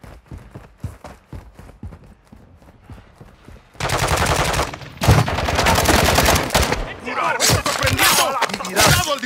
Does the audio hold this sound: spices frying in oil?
no